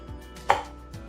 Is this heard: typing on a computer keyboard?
no